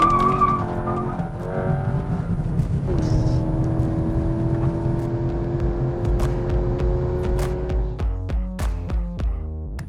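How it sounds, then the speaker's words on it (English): A Skoda Octavia RS 245 launches hard under launch control with traction control off. The engine holds high revs, then pulls steadily through a rising gear with a tyre chirp, loud and close, with no talking. "Let's slot the car in sport, traction control off, press the brake lever completely and hit the accelerator pedal."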